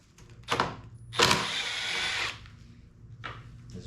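A power driver backing screws out of the plastic housing of a Husqvarna 125BV leaf blower, two whirring bursts, the second longer, close up with no talk.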